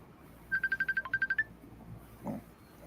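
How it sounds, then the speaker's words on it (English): A phone ringtone chirps in a quick run of about ten identical electronic beeps, a brief burst that stops abruptly and gives way to quiet room noise and a faint murmur. "Whose phone's ringing?"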